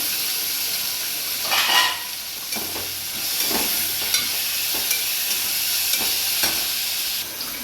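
Tomato, mint and coriander leaves frying in oil in a pan for vegetable kurma, a steady loud hiss and sizzle with occasional stirring scrapes, close and without talk.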